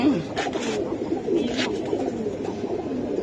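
Close, steady cooing from a flock of pigeons for sale, soft overlapping murmurs with a few faint flutters or rustles mixed in.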